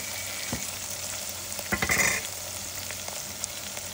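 Onion frying in a pan for a South Indian crab masala, a steady close sizzle with a few scraping stirs of a utensil against the pan in the middle.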